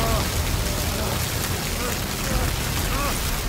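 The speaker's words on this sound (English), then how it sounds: "The rain?" Steady rain in the horror video game The Evil Within 2, a dense, even hiss of downpour running the whole time, with faint tonal game sounds drifting underneath.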